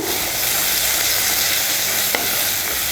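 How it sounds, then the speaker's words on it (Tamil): Onions and tomatoes with salt sauté in a pan, giving a loud, constant sizzle with stirring scrapes and a single sharp tap against the pan. No voices are present. "இப்போ இது எல்லாத்தையும் சேர்த்து நல்லா வதக்கிக்கலாம்"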